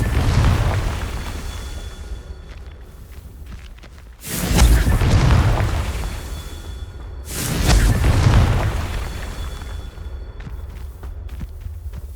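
Confringo fire spell blasts in Hogwarts Legacy, two loud booming explosions a few seconds apart, each with a roaring burst and rumbling tail over quieter game ambience.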